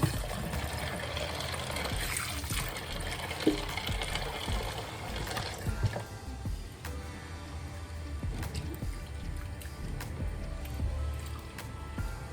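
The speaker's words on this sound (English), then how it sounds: "Now I'm washing the beans." Beans being washed by hand in a bowl of water, with continuous sloshing, squishing and trickling, occasional clinks and rustles throughout, fairly close and moderately loud, no talking.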